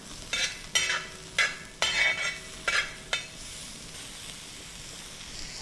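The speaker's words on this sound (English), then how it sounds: "green chili, onions and capsicums. Let me season this with salt. I'm to give it a good mix." Green chili, onions and capsicums fry in a pan with garlic and salt, heard as a soft steady sizzle broken by about six quick, close scraping stirs of a utensil, with no voices.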